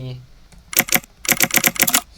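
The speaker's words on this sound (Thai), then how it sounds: "เสียงกระจกแตกขึ้นมานะครับ" Glass-breaking error sound effect from a Thai typing-practice program, heard as two loud, close bursts of bright shattering clatter, the second longer, after a brief voice at the start.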